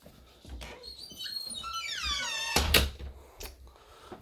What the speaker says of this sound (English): Oh, I gotta shut this door.